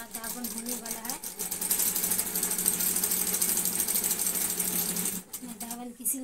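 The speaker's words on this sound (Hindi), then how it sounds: "मैं नीचे का दावन फोल्ड करके और सिल लेती हूँ फिर इसको।" Sewing machine stitching a folded hem on the lower edge of a new suit, running in a steady continuous whirr for several seconds, stopping briefly near the end and starting again, close up with faint talk around it.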